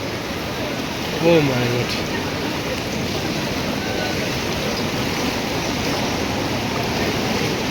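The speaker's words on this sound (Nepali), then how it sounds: "पुरै पसलभित्रबाट पानी आइरहेछ" Flood water pours into a Lalitpur street in the Kathmandu Valley and rushes through a shop, a steady, loud broadband roar and rush that never lets up, with a brief startled voice near the start.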